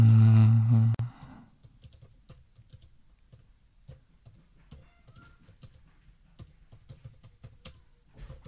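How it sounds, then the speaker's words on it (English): Someone types on a computer keyboard, a steady run of light, irregular key clicks close by in a quiet room after a brief loud sound at the start. "just typing a little here"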